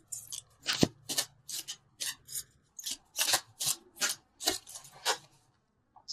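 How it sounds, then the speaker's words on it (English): Tarot cards being shuffled and drawn from a deck, a close, quiet run of about a dozen crisp riffling and sliding bursts in quick uneven rhythm, with no talking. "So let's pull a couple universal love cards."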